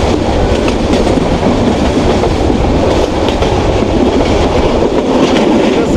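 Inside the Jayantika Express running from Dhaka to Sylhet, a loud continuous rumble of wheels and carriage fills the space, with steady rhythmic clatter throughout.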